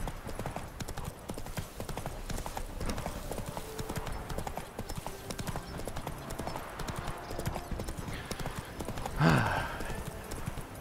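Horse hooves galloping in The Witcher 3 video game, a continuous rhythmic clip-clop at moderate loudness, with a brief louder burst near the end.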